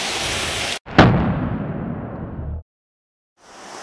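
A Strike Art MT-130 airsoft grenade goes off after a short initiation hiss: one sharp, loud blast close by, then a noisy decaying rush lasting about a second and a half before abrupt silence.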